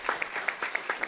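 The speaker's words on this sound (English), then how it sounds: "Give him a round of applause." Audience applause at a panel on regenerative food systems, a short burst of about eight distinct claps in a steady rhythm, moderately close and fairly quiet.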